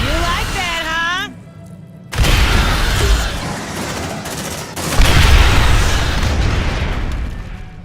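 A grenade goes off during a film firefight, a heavy boom followed by a sustained roar of blasts and gunfire, preceded by a short shouted voice and a rising whine.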